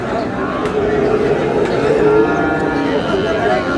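Sahiwal bull calves moo at a busy cattle market, several loud lowing calls rising over a constant murmur of crowd voices and people talking nearby.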